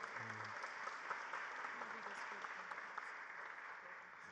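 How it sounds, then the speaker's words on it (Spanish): A book-launch audience applauds a doctor in a steady, dense wash of clapping, a brief voice at the very start before the applause carries on alone. "Fuerte el aplauso para la doctora."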